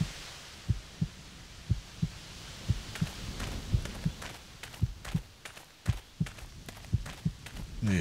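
A steady heartbeat in a video game pulses as low paired thumps about once a second, muffled and fairly quiet over a soft hum, with faint footsteps scattered between beats.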